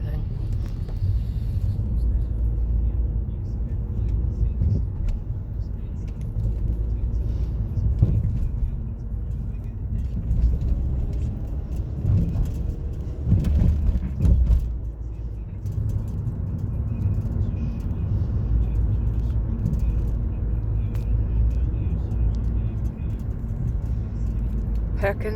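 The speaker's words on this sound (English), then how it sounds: "God, I hate traffic more than anything." Road traffic in Dunedin rumbles steadily with passing cars and a bus-like drone, while a person talks over it throughout.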